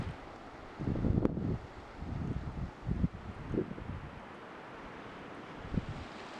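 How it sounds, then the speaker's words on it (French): Strong wind buffets the microphone on a coastal hike along the Côte Vermeille, with low rumbling gusts surging and easing in irregular bursts, loud and close, with no voices. "c'est plus difficile pour moi de filmer tellement le vent me pousse"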